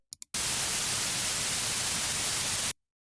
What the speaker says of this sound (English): White noise, how the white noise sounds like.